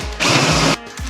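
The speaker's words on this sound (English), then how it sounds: "So let's drill 13 millimeter." A 13 mm tapered drill bit bores a hole in a van build, giving one loud sustained whirring burst of about half a second, with quieter motor hum before and after.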